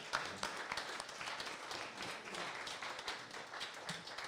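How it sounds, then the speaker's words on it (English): Soft, steady applause from a small audience at a living room concert of original music, a diffuse patter of many hands at moderate distance lasting throughout without pause. "So round of applause for everybody."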